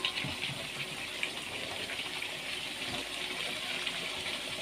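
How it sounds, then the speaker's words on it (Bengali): Hot water pours and gushes steadily into a cooking pot for several seconds, a continuous splashing flow at close range with no voices. "এখন দিয়ে দিন একটু গরম পানি"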